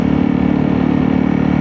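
A Honda CRF 300L motorcycle engine runs steadily close up, a loud, even mid-pitched drone with little variation throughout.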